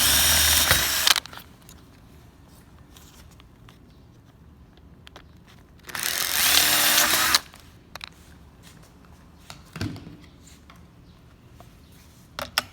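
A 3.2 mm drill bit drilling out blind rivets while installing a terrace, heard as two loud, close bursts of a power drill, with quiet gaps and small clicks between them.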